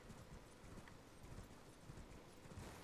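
A horse trots in the video game Elden Ring, its hooves clip-clopping in a quick, even rhythm. The hoofbeats are faint and continuous over soft background ambience, with no speech.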